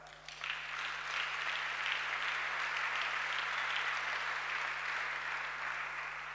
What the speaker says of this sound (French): Oui, vous pouvez acclamer.